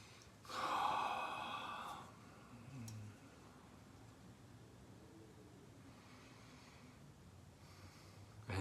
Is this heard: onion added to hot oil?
no